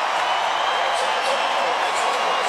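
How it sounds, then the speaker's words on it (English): A dense, steady roar from a packed football stadium crowd at a Division II championship game, Northwest Missouri State against Shepherd, a continuous loud wash of noise with no breaks. "And listen to this crowd."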